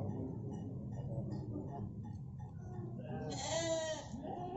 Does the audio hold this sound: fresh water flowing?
no